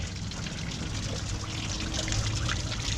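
Coolant water pours and trickles through a Ford Modular 5.4 V8 cooling system from the rear heater core, a steady close splashing flow that builds slightly toward the end, with no talking.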